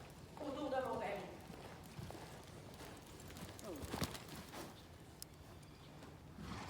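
Horse hooves thud on arena ground while circling a barrel in barrel-racing training, with soft uneven hoofbeats beneath a voice talking.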